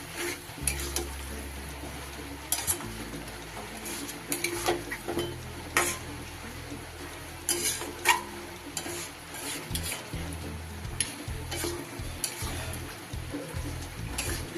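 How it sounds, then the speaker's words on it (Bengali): Beaten yogurt is stirred into chicken dopeyaza in a pan over low heat, a spatula scraping and tapping in uneven strokes over a gentle, close sizzle, with music underneath. "খুব ভালো করে দইটা মিশিয়ে দেব।"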